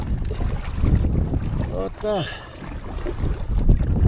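Brisk sea wind buffets the microphone with steady low rumbling during light-spinning fishing off the coast near Hong Kong, while someone speaks briefly.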